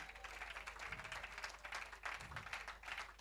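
An audience at a lecture event claps in a steady, dense round of applause, fairly distant and even throughout.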